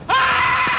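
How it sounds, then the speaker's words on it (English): A man's blood-curdling scream as he plummets to the ground in a radio drama, one loud sustained cry filling the whole moment, close and alone. "Blood-curdling scream as he plummeted to the ground"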